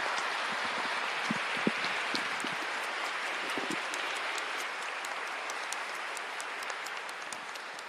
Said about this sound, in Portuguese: façamos o nosso acolhimento com uma salva de palmas